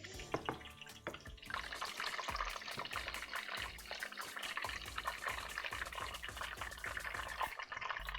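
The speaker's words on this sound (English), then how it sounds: "so those are sizzling, very lightly though" A soft, continuous crackle and patter of dumplings lightly frying in a pan, with irregular tiny pops spread evenly throughout, fairly quiet and close.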